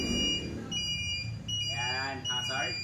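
Steady electronic beeping from a 200cc 4x2 ATV as its hazard lights are switched on, a repeating tone heard up close, with a voice speaking briefly near the end.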